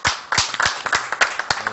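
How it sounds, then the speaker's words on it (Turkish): A handful of people in a Turkish TV show studio audience clap in an uneven rhythm, sharp close hand claps with short gaps between them. "Ayçil Hanım alkışlıyoruz hemen"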